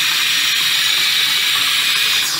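Cold water runs steadily from a newly installed kitchen sink faucet, a constant close hiss and splash against the basin with no pauses or voices.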